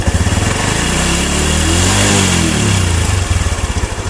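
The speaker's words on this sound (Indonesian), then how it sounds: "Coba saya gas kenceng ya, pasti nanti lampunya akan putus." Motorcycle engine revved hard during a regulator check, a close, loud, rough idle that climbs into a sustained high rev and then drops back to a pulsing idle.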